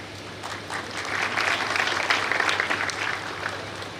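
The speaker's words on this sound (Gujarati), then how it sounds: "મિત્રો, જોરદાર તાળીઓથી વધાવી આપણા માંગરોળ સમાજના પટેલશ્રી અને આગેવાનશ્રીઓને." Applause for a Patel community leader being honoured with a shawl at a Kharva community student felicitation ceremony, a steady round of clapping from the hall that swells in the middle and carries on for about four seconds with no talk.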